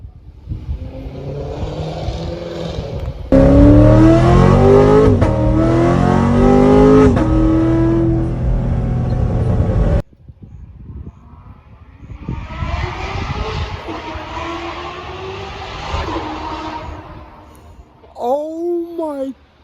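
In a residential neighborhood, a Corvette engine blasts through loud revving bursts with rising wailing pitch, then a second surge from farther off, with people talking over it and a brief shout near the end.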